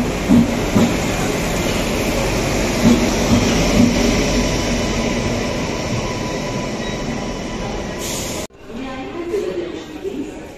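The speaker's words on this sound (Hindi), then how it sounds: "फाइनली ट्रेन आ गई है" Train arriving at an Indian railway station in cold weather, a loud continuous rumble of rolling wagons and wheels that cuts off abruptly near the end, with someone talking over it.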